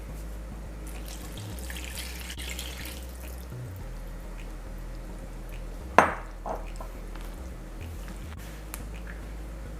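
Water runs steadily from a kitchen faucet into a sink while making dhal puri dough, with a sharp clink of a dish or utensil midway and low background hum.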